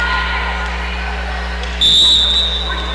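Referee's service whistle at a women's college volleyball match, a single shrill blast lasting under a second, cutting over a steady gym hum and crowd murmur.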